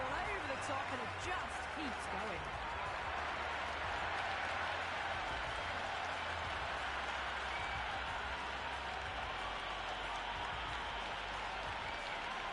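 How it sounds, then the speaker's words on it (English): Stadium crowd noise at a cricket ground in the Cricket 26 video game, during a T20 match between Pakistan and the USA: a steady, dense roar of cheering and applause that holds evenly throughout, with a commentator talking over it. "the crowd have joined the party. It's pretty noisy at the ground."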